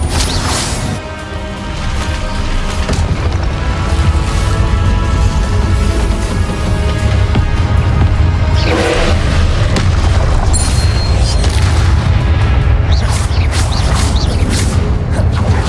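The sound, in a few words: spellcasting explosions in the video game Hogwarts Legacy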